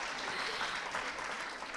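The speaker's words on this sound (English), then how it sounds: "How about we give him another applause?" An audience applauds at a NASA STEAM education event, a brief dense burst of clapping at steady loudness with no voices.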